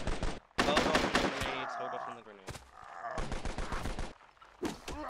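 Gunfire in Mount & Blade: Warband: rapid bursts of shots crackle in quick succession, interspersed with loud voices talking over them, sharp and close, with a pause midway before more firing.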